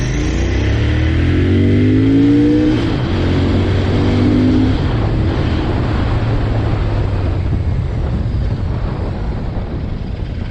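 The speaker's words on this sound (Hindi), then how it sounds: "जैसे ही आप इस बाइक को एक्सेलरेट करेंगे" A Royal Enfield Interceptor 650 motorcycle engine revs and accelerates hard, its rising drone loud and close, with heavy wind rush over the microphone throughout.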